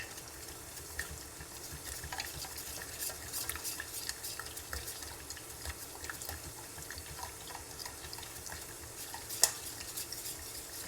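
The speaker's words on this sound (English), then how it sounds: "Keep stirring all the time." Flakes stirred steadily in a pan while making chocolate chip cookies, a continuous scraping and rustling with light utensil clicks and one sharp knock near the end, close and alone.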